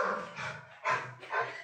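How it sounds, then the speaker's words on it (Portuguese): A small female dog barks several times at a cat walking along the rooftops, with short, muffled, fairly distant barks coming in rhythmic bursts in a quiet room. "Ela não está latindo para nós, ela está latindo para um gato que está andando pelos telhados."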